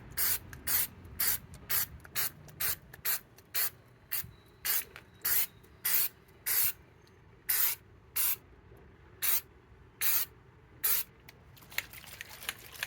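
Rocker guard coating is sprayed onto a Chevy Cruze's rocker panel in about twenty short, close bursts of aerosol hiss, each separated by a brief pause.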